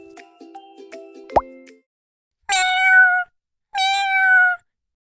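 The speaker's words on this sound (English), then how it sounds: "It's a cat. Cat sound name is meow" After a short plop and some faint clicks, a cat gives two clear, drawn-out meows with a short pause between them, close and loud against silence.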